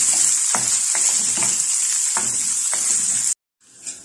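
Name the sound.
frying garlic, green chillies and onion in a pan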